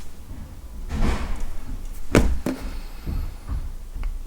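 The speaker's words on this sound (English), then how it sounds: "the door to this flat is so fucking loud" A heavy flat door opens and closes with loud thuds and clunks, a sharp bang near the middle and lighter knocks after, over a steady room hum.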